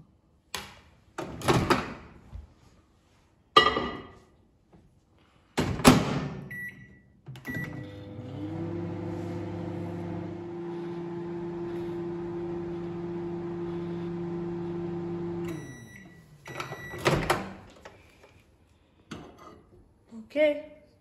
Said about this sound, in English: now microwave it for 2 minutes